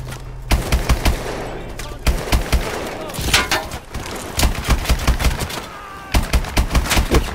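Call of Duty Advanced Warfare gunfire, loud close bursts of rapid automatic shots in stuttering clusters with short pauses between, a voice briefly heard among them.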